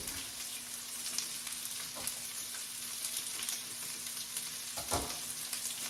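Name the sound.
stirring seasoning packets into cooking orange chicken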